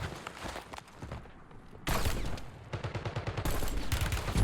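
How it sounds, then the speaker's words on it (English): Rapid bursts of gunfire from the video game Warzone crack in dense, overlapping volleys, with a brief lull before heavier sustained automatic fire and nearby footsteps resume loudly. "Now we're getting shot from behind."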